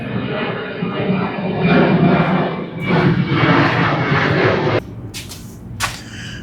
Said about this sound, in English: That jet's just flying in circles over the shop.